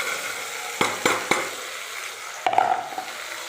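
Pieces of bottle gourd drop into a pan of frying tomatoes with a few quick thuds, followed by a burst of sizzling and stirring, close up with no talking.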